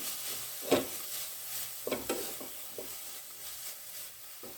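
Spring roll stuffing being stirred with vinegar, soy sauce and tomato sauce in a pan: a few scraping, clattering stirs against a soft sizzle, moderately close, with no talking.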